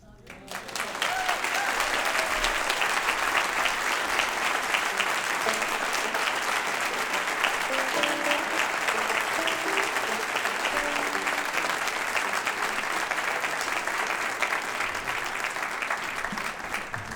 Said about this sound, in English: Do you like the sound of applause?